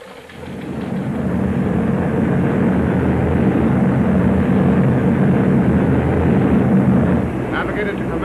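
A formation of heavy bombers drones overhead as a loud, steady, low roar that holds throughout, with a slight dip near the end and no voices heard.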